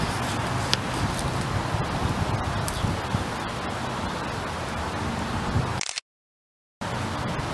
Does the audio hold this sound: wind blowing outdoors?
yes